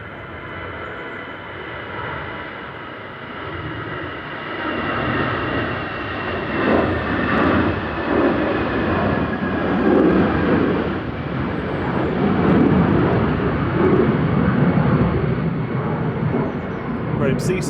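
An EasyJet airliner bound for Paris Charles de Gaulle roars at Manchester Airport, its engine rumble swelling from moderate to loud and holding as it passes, with a voice talking faintly underneath.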